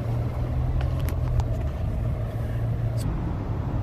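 A Toyota car turns around in a U-turn, its engine and tyre rumble steady and fairly loud from inside the cabin, with passing road noise and a few faint clicks throughout.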